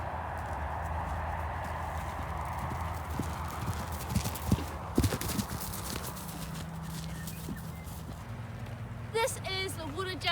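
Hooves thud and clip-clop across ground as a horse gallops on a cross-country course, with a few louder strikes midway and a brief whinny near the end.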